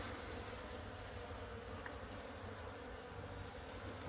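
Low, continuous buzzing of many honey bees up close on top of open hive frames, a dense droning hum with no talking.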